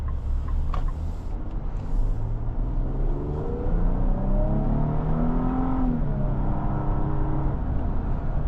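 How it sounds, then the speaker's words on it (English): A 2026 Infiniti QX80 Pure's engine climbs steadily through the revs as the SUV accelerates, heard from inside the cabin as a loud, rising hum over continuous road rumble, with a brief dip around a gear change. "Yeah, it gets up to speed well. Especially in the sport mode. And I like the way the engine sounds."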